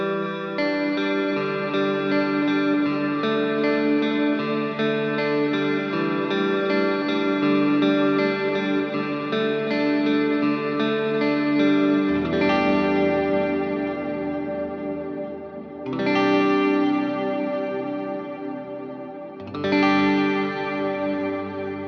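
Taylor T5 electric-acoustic guitar run through a Line 6 Helix modulation effect, sustained chords shimmering and sweeping back and forth, loud and continuous, with fresh strums restarting near the end.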